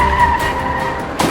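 A car swerving erratically with tires skidding, a loud sustained screech with a steady squealing tone and a sharper burst near the end.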